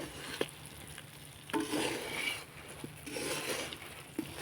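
Sugar is stirred in a pan while making chini goja, giving faint scraping and soft sizzling swirls with a few light taps of the utensil against the pan, close but quiet.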